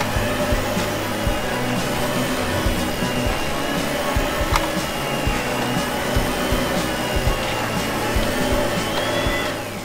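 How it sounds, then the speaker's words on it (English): A vacuum cleaner runs steadily at an indoor playground, a loud continuous motor whine with a high tonal hum, heard alone with no talking. "And, yeah, a vacuum."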